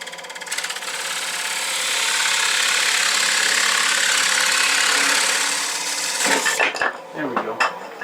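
A wooden workpiece spinning on a lathe at about 800 rpm as a tool cuts into it, producing a loud, sustained broadband rasping whine that swells in the middle and then breaks into rougher scraping and knocks at the end.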